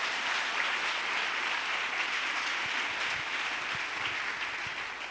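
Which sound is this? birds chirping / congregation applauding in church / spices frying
congregation applauding in church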